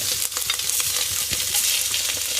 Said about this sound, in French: à sec, c'est-à-dire sans matière grasse, je vais rissoler les morceaux de volaille